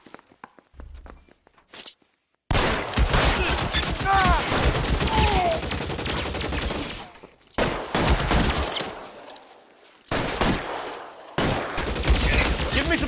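Gunfire during a shootout in the video game L.A. Noire, loud bursts of shots and clatter in several chunks with short silent gaps, mixed with in-game effects and some voices.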